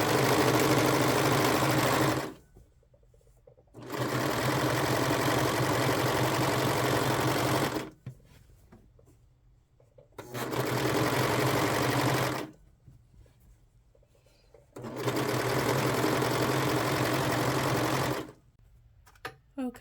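A serger sewing machine stitches along a dress edge in three long, steady bursts of close mechanical whirring, separated by short pauses, with no voices.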